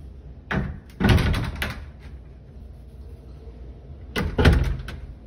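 A double-door storage closet in an apartment at 900 N Charles is opened and closed. Two clusters of wooden clunks and thuds are heard a few seconds apart, close and fairly loud, with quiet room tone between them.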